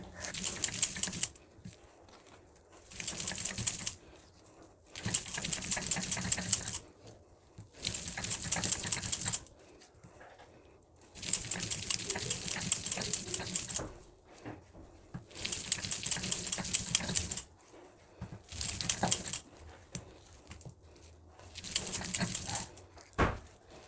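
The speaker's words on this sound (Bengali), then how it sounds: "তাহলে আমরা শিলপাটাতেই বেটে নেব বিউলি ডালটাকে" Soaked black gram lentils are ground by hand on a traditional stone slab, rough scraping strokes coming in regular bursts of about two seconds with short pauses between them.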